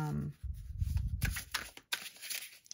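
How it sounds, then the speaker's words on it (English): An oracle card deck being side shuffled by hand, producing quick papery flutters and soft slaps in short bursts, close and clear. "I like the side shuffle."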